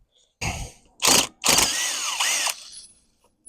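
Impact wrench on a 2003 VW Golf MKIV suspension bolt, three loud close bursts: two short hammering rattles, then a longer sustained run with pitch sweeps as the bolt spins free.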